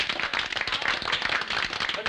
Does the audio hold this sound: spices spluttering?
no